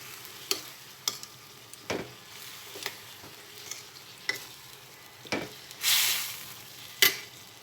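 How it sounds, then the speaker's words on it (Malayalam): Chow chow (chayote) pickle cooking in a pan after hot water is added, giving scattered sizzling pops and stirring scrapes with a louder burst of bubbling hiss near the end, close and without talk. "ചൂടുവെള്ളം ഒഴിച്ച് ഒന്ന് ഒന്ന് തിളച്ചാൽ മാത്രം മതി എല്ലാം ഒന്ന് പിടിച്ചു വരാൻ വേണ്ടി നല്ലോണം ഒന്ന് തിളക്കട്ടെ"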